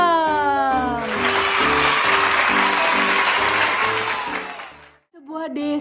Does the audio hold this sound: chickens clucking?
no